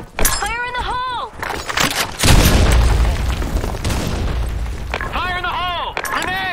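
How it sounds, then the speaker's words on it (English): A grenade detonates in the shooter game Blackshot, a loud, close boom that rolls into a long rumbling tail, bracketed by voiced callouts before and after. "Fire in the hole. Grenade."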